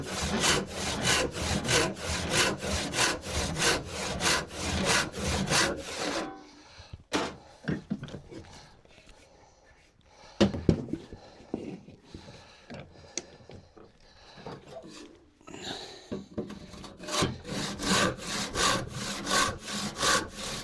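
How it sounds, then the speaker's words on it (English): Coarse rip saw with three or four teeth per inch cutting wood for wedges, heard as fast, loud rhythmic rasping strokes that stop for a quieter stretch of small knocks and shuffling, then resume. "It's a very coarse rip saw. It's 3 or 4 teeth per inch"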